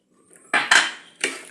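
Chickpeas, chopped onion, chilli, coriander, lemon and chaat masala being tossed together in a bowl for chana chaat, with three close, loud bursts of clinking and scraping separated by short pauses.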